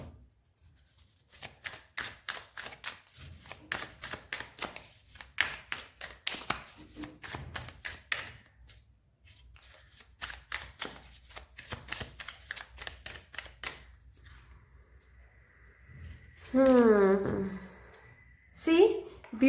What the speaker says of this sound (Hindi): चलिए यहाँ से भी कुछ कार्ड्स ले लेते हैं